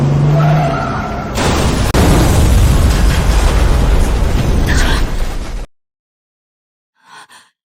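A dramatized truck crash after the steering tie rod snaps, rendered as a loud sound effect: a tonal screech and rushing skid give way to a heavy, sustained crashing roar that cuts off abruptly, followed by silence and a brief voice.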